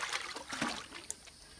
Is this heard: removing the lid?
no